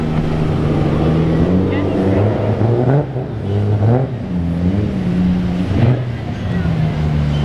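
A Toyota Supra's engine revs and rumbles at a Florida car meet, a loud, steady drone that swells and dips, with people talking over it throughout.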